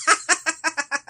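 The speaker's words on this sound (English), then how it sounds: "Bird." A rapid series of seven loud, close fowl-like calls in an even rhythm, each a short harsh gobbling burst, heard alone without other sound.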